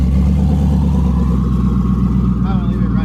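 A twin-turbo Ford Mustang idles close by with a loud, steady, deep rumble, and someone talks briefly over it.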